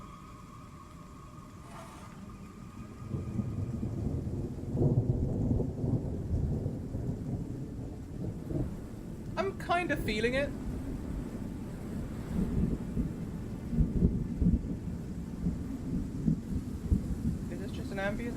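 A thunderstorm ambience track: steady rain with low rumbling thunder swelling and fading, wind-like noise throughout, and someone talking briefly over it.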